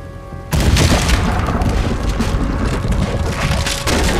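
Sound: cannon firing in video game Red Dead Redemption 2

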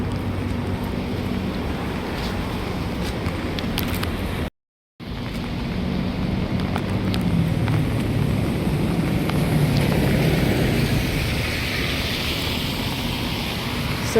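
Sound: rain falling in the city street

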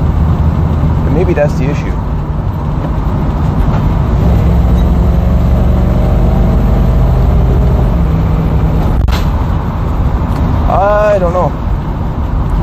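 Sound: car with Quadrajet carburetor downshifting while driving

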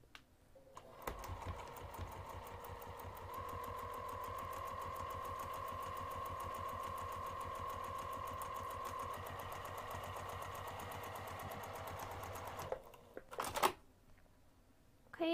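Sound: sewing machine sewing a half inch seam

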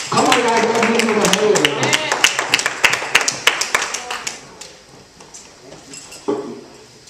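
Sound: church congregation clapping hands

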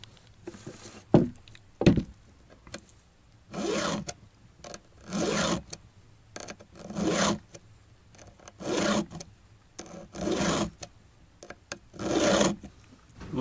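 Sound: sharpening chainsaw chain teeth with diamond needle file

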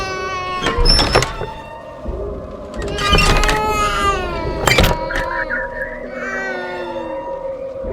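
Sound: baby crying in a Minecraft horror map, video game

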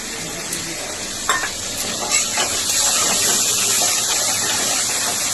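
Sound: prawns sizzling in frying onions

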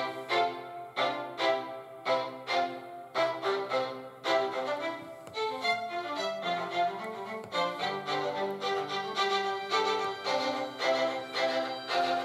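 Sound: GarageBand Smart Strings autoplay string playback

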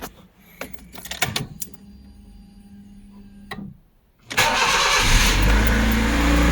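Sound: car engine starting

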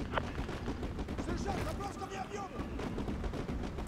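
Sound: artillery strike in video game Modern Warfare 2 Remastered

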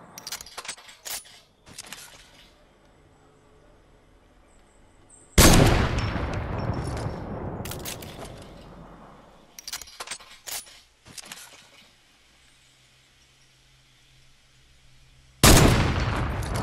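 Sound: gunfire shooting at trees in Fortnite video game

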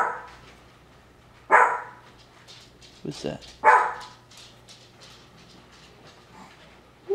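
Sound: small dog barking

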